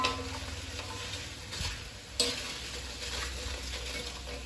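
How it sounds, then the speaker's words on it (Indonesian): Kerupuk crackers fry in a pan with hot oil, giving a steady crackling sizzle with a few sharper pops and clicks, close and moderately loud, with no speech. "kalau emak kalau goreng kerupuk agak gosong gitulah sedikit"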